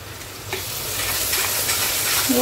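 Onions fry in a pan with a loud, dense, continuous sizzle that builds steadily, with faint stirring scrapes underneath, heard up close with no voices.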